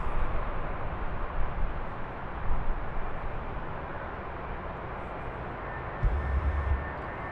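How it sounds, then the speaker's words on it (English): A Condor Airbus A330-900 heavy jet approaches Frankfurt runway 25R on a freezing day, its low engine rumble steady and moderately distant, with gusty wind swelling across the microphone. "one of the first heavies that's coming up is my final approach, the golden livery beach towel of Conder, the A330-900"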